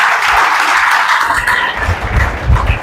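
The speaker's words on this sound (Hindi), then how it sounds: "आपके लिए तालियां बजा रहे" Applause and clapping from a congregation at a sermon for seminarians, a continuous wash of hand claps at fairly loud level, slightly swelling toward the end.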